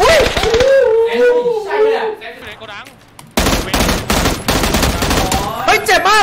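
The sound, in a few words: gunfire from the video game PUBG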